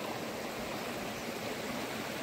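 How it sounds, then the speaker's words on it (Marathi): A river flows steadily beside an outdoor riverside cooking spot, a continuous broadband rush of water that stays even and close throughout, with no voices. "साईडला नदी वाहते"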